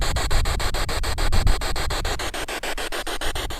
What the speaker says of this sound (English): a sharp burst of static comes through on the radio